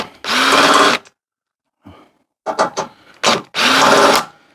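Cordless drill running in long bursts while dismantling a treadmill for scrap, with a loud whirring pass, a pause, several short stuttering pulls, then another sustained run, close up.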